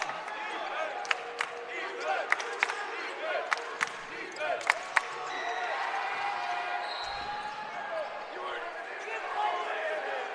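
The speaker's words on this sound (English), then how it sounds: "The crowd's into it" A high school basketball crowd against Siloam Springs cheers and roars in a gym, the noise swelling loudly in the second half after sharp ball bounces and squeaks early on, with a commentator talking over it.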